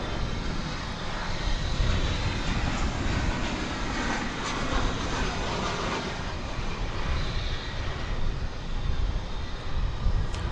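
An MD airliner jet in flight at DFW Airport, its broad engine roar steady and fairly loud throughout, a continuous rushing drone with no talk.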